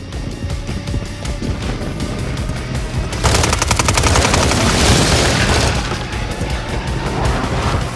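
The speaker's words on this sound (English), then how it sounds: "Friendly precision airstrike inbound." Bursts of rapid gunfire rattle through a Call of Duty match, then a loud, dense roaring blast from an airstrike takes over for a couple of seconds before the shooting and rumble continue.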